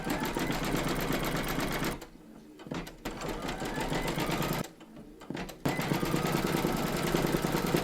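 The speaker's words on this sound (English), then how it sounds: "stitch round number 6" A machine embroidering a large Statue of Liberty appliqué runs in a fast, steady mechanical whir and rattle, close and loud, pausing twice briefly before resuming.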